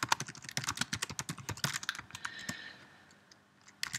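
Rapid computer keyboard typing while an HTML page skeleton is written, a dense run of close, crisp keystrokes that thins into a few scattered taps and a pause before a final burst.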